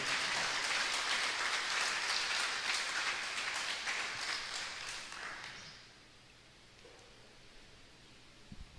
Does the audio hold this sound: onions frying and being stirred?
no